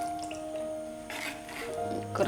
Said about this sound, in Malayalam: നമ്മുടെ പുളിവെള്ളവും കൂടി ഒഴിച്ചു കൊടുക്കാം.